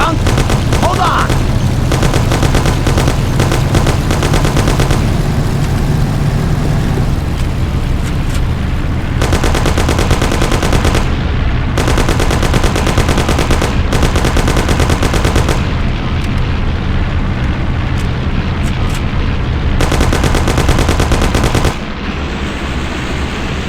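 Sustained, loud gunfire from a shootout in the crime game Mafia: long rattling machine gun bursts and scattered shots with only short gaps, while voices shout under the din.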